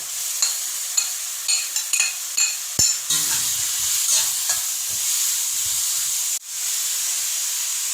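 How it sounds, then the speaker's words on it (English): Onion and sweet pepper go into a hot wok with garlic and green onion, setting off a loud, steady hissing sizzle. Quick scraping stirs and clinks of a utensil come first, and the hiss briefly dips before carrying on. "Then we will put the onion and sweet pepper into the wok."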